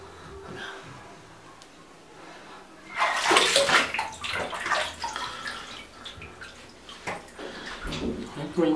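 Water splashes and sloshes in a bathtub while a Siberian husky puppy is bathed, starting quietly and turning into irregular louder splashing, with faint voices in the background.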